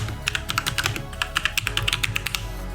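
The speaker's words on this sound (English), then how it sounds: "open up a terminal, type in .NET New Podcast" Typing on a computer keyboard in a terminal, a close run of quick, uneven keystroke clicks heard alone with no talking.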